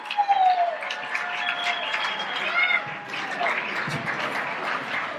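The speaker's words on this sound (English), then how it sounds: "And give me a applause." Applause from an audience at an erotic poetry event, loud at first then continuing under a host's voice and a few whoops and shouts.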